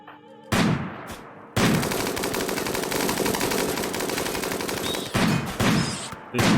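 Dense automatic gunfire in the video game RimWorld, a loud sustained burst of rapid shots in several stretches broken by short gaps, with no talking.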